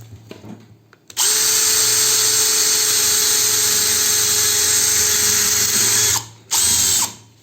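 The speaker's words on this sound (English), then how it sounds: "we will be trying to drill a wood" An Ibell cordless drill bores into wood, a loud steady high-pitched whine running about five seconds after a brief start, then stopping and revving again briefly.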